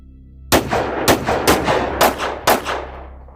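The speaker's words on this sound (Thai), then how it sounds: "เสียงปืนดังสนั่นป่าอีกครั้ง" Five loud gunshots ring out in quick succession, each with a booming echo trailing off between them.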